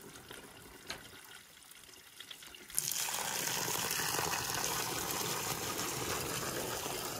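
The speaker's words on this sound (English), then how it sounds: "Here it comes, filling with water." Water from a garden hose gushes into a mineral jig at a gemstone mine in Canada, starting abruptly after a few quiet seconds and then pouring steadily and loudly, close by.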